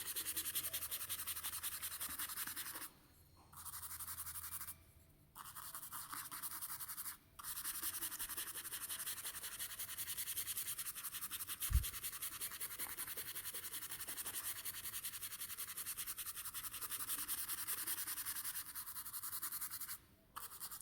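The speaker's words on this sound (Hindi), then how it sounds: "और शेडिंग के लिए हम ये ब्रश यूज़ करते हैं।" Brush sweeping over paper to shade a figurative charcoal drawing, a faint, steady soft scratching hiss broken by a few short pauses, close and quiet with no talk.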